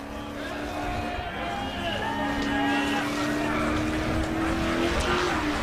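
A race car blasts up a ridge at the Nitto Race of Kings, its engine droning and rising from a distance under steady commentary.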